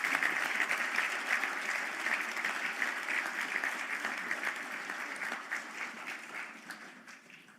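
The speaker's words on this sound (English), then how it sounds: "face your supporters, and give your supporters a well-earned round of applause" Steady, dense round of applause from graduates at a conferring ceremony in Galway, clapping for their families and supporters, holding strong and then tapering off gradually toward the end.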